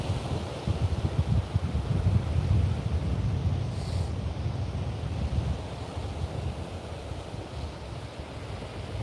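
Waves washing ashore and wind buffeting the microphone at Port Melbourne Beach, a steady rushing roar heard close, strongest early and easing slightly toward the end.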